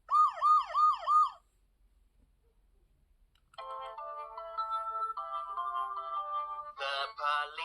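A VTech toy police car sounds a short wailing electronic siren, then goes quiet before a tinny, up-tempo electronic melody plays from the toy, close and clear.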